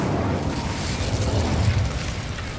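A fire spell cast in the game Hogwarts Legacy gives a sustained loud roaring whoosh of flame lasting a couple of seconds, dense and steady with no voices.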